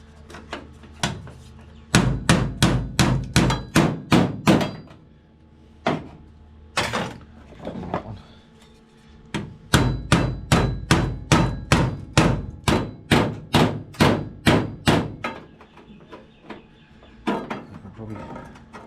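Metal plenum panel of a Ford Falcon under rust repair, struck with a makeshift hammer in long runs of sharp, evenly spaced ringing blows, close and loud, pausing briefly between bursts.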